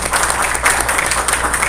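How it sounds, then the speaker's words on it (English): Audience applause fills a city council meeting of aldermen, a dense, steady clapping from a room crowd lasting the whole moment. "let's give a warm round of applause"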